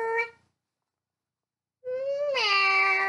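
A cat meows twice, first a short, clear call, then after a silent pause a longer, rising and drawn-out meow, both close and distinct.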